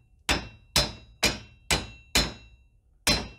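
Six sharp metallic hammer taps on top of a locomotive brake, close and ringing, struck at a steady rhythm with a short pause before the last blow and no talking.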